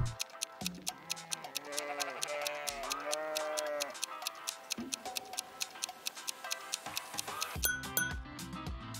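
Sheep bleating several times, drawn-out wavering calls, set against a steady ticking clock that runs throughout, fairly quiet and close.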